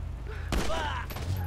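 A .50 caliber gunshot in GTA V cracks out as one loud, sharp blast with a brief echoing tail, standing out against a low game background hum.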